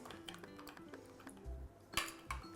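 A spoon stirs a dry yeast mixture in a bowl, giving light, irregular clinks and scrapes against the sides, close and fairly quiet, with a few louder knocks near the end.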